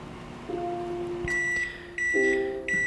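A microwave oven beeps in several steady electronic tones, some low and some high, over a faint background hum.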